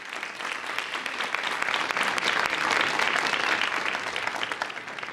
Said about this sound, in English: give a big round of applause for our panelists today